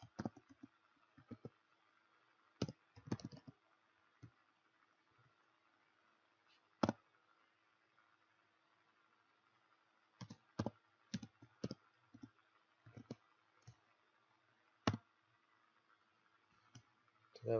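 Computer keyboard typing in scattered bursts of sharp clicks separated by pauses, close but quiet against a faint steady hum.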